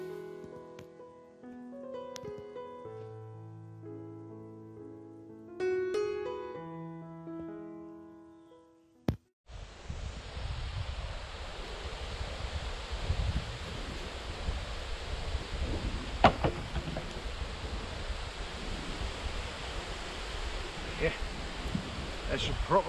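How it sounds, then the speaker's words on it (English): Strong wind blows outdoors in continuous heavy gusts, buffeting the microphone with a roaring rush for about thirteen seconds after a short stretch of piano music and a sharp click. "As you probably can hear, it's really windy"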